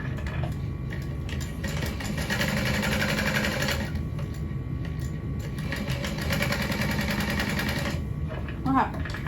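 A home sewing machine runs steadily while top stitching a Mini Mercury backpack piece, a fast rhythmic mechanical whir close to the microphone with a short pause near the end.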